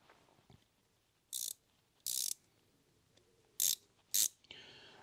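A T40 drive tool's wheel is turned by hand, giving short bursts of crisp ratcheting clicks, two close together then two more after a pause, near and fairly quiet against a still background.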